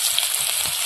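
Chopped onion and crushed garlic frying in hot oil in a wok for a spinach curry, giving a steady, close hiss of sizzling that holds level through the whole short stretch with no voices.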